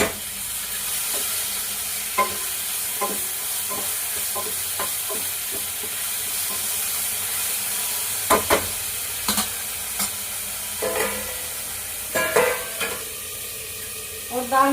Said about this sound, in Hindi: तो जी प्याज हो गई है ब्राउन, बस टमाटर डाल देती हूँ